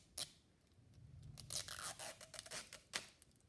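A small zipper on an L.O.L. Surprise Confetti Pops toy ball is pulled open in a few quick, close rasping bursts, fairly faint, with no talking.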